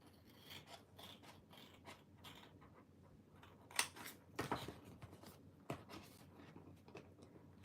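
Scissors snip and rasp through paper being cut out for a monthly journal, a series of close, quiet cuts and scrapes with a few louder snips partway through, no voices.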